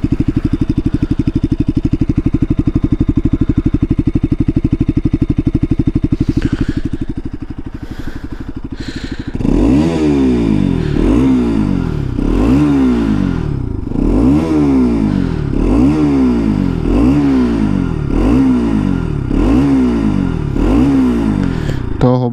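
A new motorcycle with its stock exhaust idles steadily, then after a short dip gives a run of about ten even, rhythmic throttle blips, loud and close with no talk.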